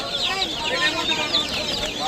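Australian chickens cluck and chirp continuously at a busy pet market, many birds close by in a dense chorus.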